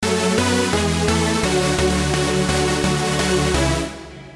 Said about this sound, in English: the next sound I would get would be a like a saw sort of sound like this